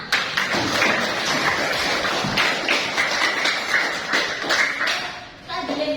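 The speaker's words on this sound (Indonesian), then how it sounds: "Jadi tepuk tangan" Classroom students clapping their hands together, a busy patter of claps running for several seconds with some voices and shuffling mixed in.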